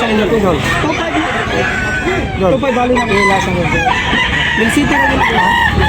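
Several roosters crow repeatedly, near and far, over a busy crowd of people chattering and calling out at a rooster market in Tabunok, Cebu.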